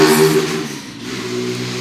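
Motorcycle passing on a city street, a steady loud engine drone with a brief rise and dip, close by and alone.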